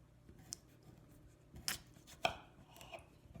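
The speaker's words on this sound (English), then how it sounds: "you're going to cut it in half." A knife cuts through a raw potato to halve it, giving a few quiet, sharp crunching chops spaced apart with short pauses between, close to the microphone in a quiet room with no one speaking.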